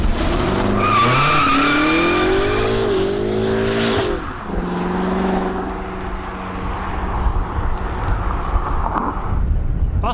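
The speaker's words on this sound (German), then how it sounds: "er soll halt ein Powerslide machen, so dass es irgendwie brutal aussieht und auch brutal anhört" A car powersliding, its tires screeching loudly in long wavering tones over a roaring engine, sustained for about ten seconds with the squeal shifting and sweeping throughout.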